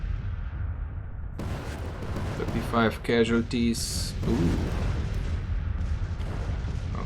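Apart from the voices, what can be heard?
cannon artillery fire in video game Grand Tactician: The Civil War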